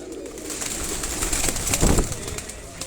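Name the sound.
pigeon from Ustad Salahuddin Shahriya's house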